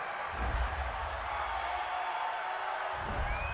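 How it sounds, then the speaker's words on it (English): Home stadium crowd at an NFL football game between the Miami Dolphins and Indianapolis Colts cheering a penalty call, a broad distant roar that holds steady with a swell near the end. "This home crowd, they're happy with that call."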